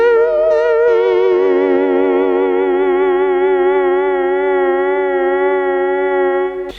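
A sustained synthesizer note from a Technics KN-800 keyboard swells in slowly, then wavers with steady vibrato, holding loud and even before cutting off abruptly.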